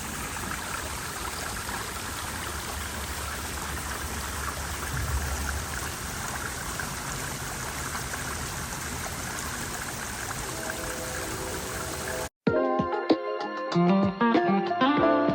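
Steady rushing water from a small creek spilling over a low waterfall about 3 feet high, continuous and fairly close, ending abruptly as a different sound cuts in.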